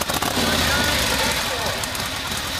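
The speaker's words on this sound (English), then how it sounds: "Let's try and start this motorcycle." A motorcycle engine at Daytona Bike Week turns over and runs with a loud, dense, rough roar from start to finish, with a voice audible over it.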